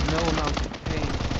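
Rapid automatic gunfire in the shooter game Blood Strike, a dense and continuous loud rattle of shots, with a voice talking underneath.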